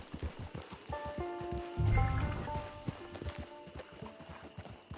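Horse hooves clip-clop at a steady trot in Red Dead Redemption 2 Online, close and moderately loud, with tonal game music notes sounding alongside.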